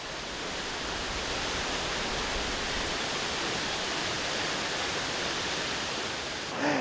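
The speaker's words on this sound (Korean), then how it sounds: "가까이에서 보니 한층 더 크게 와닿는 폭포의 웅장함." Up close beneath Veliki waterfall at Plitvice in the rain, a loud, unbroken roar of crashing water and spray fills the whole span, with no voices over it.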